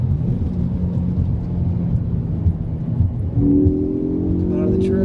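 A 2014 Ford Focus ST with a resonator delete accelerates out of a turn, its exhaust a steady low rumble that rises into a firmer, louder drone partway through.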